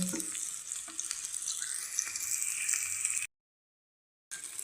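Chili powder and turmeric frying in oil in a small tempering pan, giving a close, continuous crackling sizzle with occasional stir clicks, then a full second of silence before the sizzle resumes.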